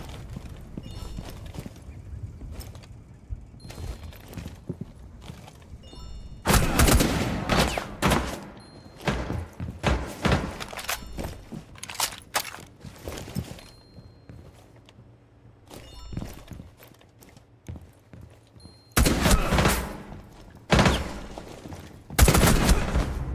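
Gunfire from a weapon in Rainbow Six Siege, arriving in several loud, sharp bursts separated by quieter stretches of in-game ambience.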